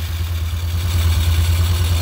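A Yamaha Xeon scooter with a carburetor idles steadily and close by, giving a smooth, even low-pitched engine putter throughout.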